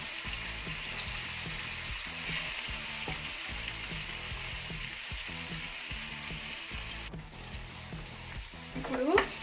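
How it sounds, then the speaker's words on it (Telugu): Fish pieces frying in hot oil in a pan for mango fish pulusu, a continuous close sizzle with rhythmic stirring taps, then a brief louder clatter near the end. "ఇప్పుడు ఇందులో మనం ముక్కల్ని, చేప ముక్కల్ని వేసుకొని కొంచెం ఫ్రై చేసుకోవాలి"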